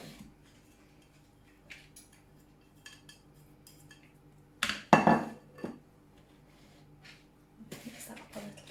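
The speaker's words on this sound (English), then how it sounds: "Mix that up a little bit." Grated carrot being mixed into vegan, gluten-free carrot cake batter in a bowl: quiet intermittent spoon scrapes and clinks against the bowl, with a louder cluster of stirring strokes midway and again at the end.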